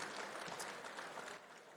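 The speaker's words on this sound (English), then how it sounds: "Round of applause." Faint, steady clapping from a gathered audience at a football hall of fame show, a dense patter that drops off slightly near the end.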